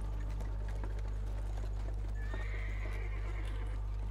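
A horse pulling a carriage in the video game Amnesia: steady clip-clop hoofbeats with a neigh over a constant low hum, fairly quiet throughout.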